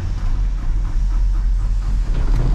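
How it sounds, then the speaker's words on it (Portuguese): Air hissing steadily from a leaking truck air system on a tow truck, a continuous broadband rush over a low engine-like rumble, close and fairly loud with no break. "Nossa, o caminhão tá baixando tanto ar."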